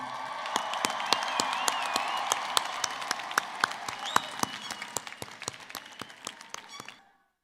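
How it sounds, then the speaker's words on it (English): Applause from a graduation ceremony audience, a dense steady clapping crowd with a few sharper individual claps standing out, fading and stopping abruptly near the end. "let's give them an applause for everything that they've done for you"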